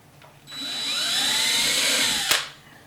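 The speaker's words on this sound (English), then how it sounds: "So I'm back to my ideal measurements and drilling once again." A power drill whirs steadily for about two seconds while drilling a hole for a can light, its pitch shifting slightly as it bites, then stops with a brief clunk.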